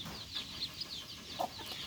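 Belgian ducklings give soft, high repeated peeps and calls, fairly faint and scattered across a quiet yard, with no voices over them.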